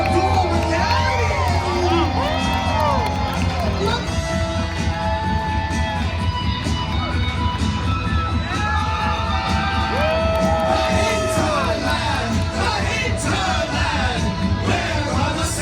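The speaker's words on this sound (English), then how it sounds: "Sailors, you better scream and cheer for the cast of Duel with Galley!" Cheering and screaming from an audience of sailors aboard a cruise ship greets a show cast, loud and continuous, with whoops and shouts riding over amplified music throughout.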